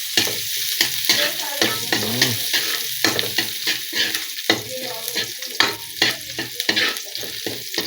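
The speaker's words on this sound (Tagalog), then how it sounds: "sunod na natin yung bawang. Yan. Gisa lang natin ng konti." Garlic sautéing in a pan for ginisang upo, a continuous bright sizzle broken by frequent quick scrapes and clatters of stirring, close and fairly loud throughout.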